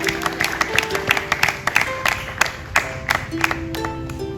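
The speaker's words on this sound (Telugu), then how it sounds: "నమ్మినటువంటి వారు యేసయ్యకు చప్పట్లు కొట్టి దేవునికి స్తోత్రం చెల్లించారు" A church congregation claps and applauds, praising Jesus, in a dense burst of hand claps with scattered sharper claps, a crowd sound heard close and fairly loud throughout.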